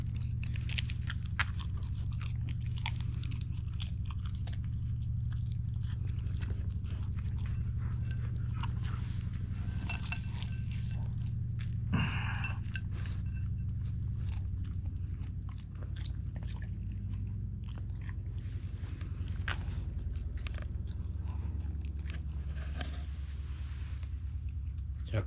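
A Siberian husky chews and crunches wood-fire grilled mackerel outdoors in the countryside, with steady close biting and gnawing sounds over a continuous low background rumble for the whole stretch.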